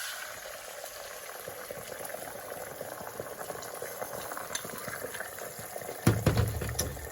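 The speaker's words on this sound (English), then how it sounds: "And then we are going to do our eggs." Eggs frying in a pan of melted butter on a stovetop, a steady close crackle and sizzle throughout with a louder burst of spitting near the end, no talking.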